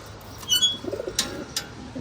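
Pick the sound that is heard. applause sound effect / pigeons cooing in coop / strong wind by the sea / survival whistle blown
pigeons cooing in coop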